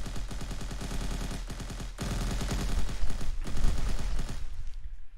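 Rapid automatic gunfire from AI enemies in an Unreal Engine 4 stealth action game, dense continuous bursts with brief breaks, loud and close, fading out at the end.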